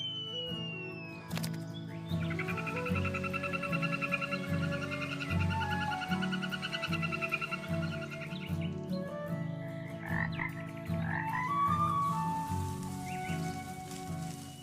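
Poison dart frog croaking in a humid, misty rainforest, a steady rhythmic trill of repeated calls held at close range over a dense chorus of other frogs, with light rain pattering in the background.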